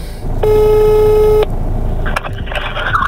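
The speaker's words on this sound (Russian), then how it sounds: "Я звоню дедушке." A phone call is dialed: a loud steady electronic tone holds for about a second, then a quieter ringback tone and short beeps follow, with no voices.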